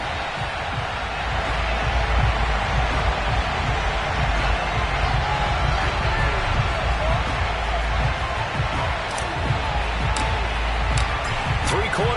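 A big stadium crowd roars steadily at an NFL game at FedEx Field before a matchup with the Dallas Cowboys. The dense, continuous roar stays loud throughout, with faint whistles and claps rising out of it and no clear voice on top.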